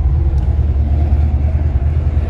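A 1962 Chevrolet C10 pickup idles with its exhaust running through Hedman headers, a loud, deep, steady rumble with a throbbing low pulse close by and no talk.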